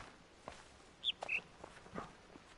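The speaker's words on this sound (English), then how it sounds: "I do hear a bird chirping" In the video game The Witness, a bird gives two short, clear chirps amid quiet ambient sound and soft footsteps.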